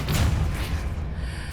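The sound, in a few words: Depulso spell cast in video game Hogwarts Legacy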